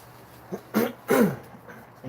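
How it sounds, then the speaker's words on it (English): A person coughs a few times indoors, with two short, close bursts after a faint lead-in, then quiet. "I just cough a lot."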